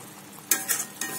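Ground spices sautéed with potato and taro in a pan, a brief close sizzle punctuated by three quick scraping strokes of a spoon.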